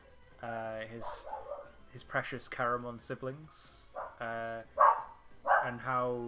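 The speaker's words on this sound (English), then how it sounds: "Sorry if you can hear my dog in the background; he's just barking at something." A pet dog barks at something in the background, short yips and woofs mixed under a man's close, continuous speech.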